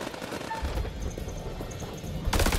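Gunfire in House of Ashes, a combat scene with a low rumbling volley of shots through the middle, faint pinging tones, and a sharp loud burst at the end.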